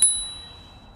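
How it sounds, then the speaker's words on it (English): A single bright ding from the integrated thumb bell on a Kugoo Kirin G3 electric scooter, struck once up close and left to ring out, fading gradually over about a second. "A nice integrated built-in bell, which sounds like this."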